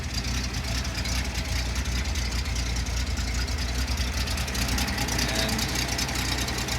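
A 1973 Datsun 240Z engine idles, a steady close rumble that chugs evenly throughout, with a single brief spoken word.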